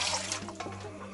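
Tap water runs into a home autoclave being filled for canning stewed meat, a steady close splashing stream that continues for about a second with no talk.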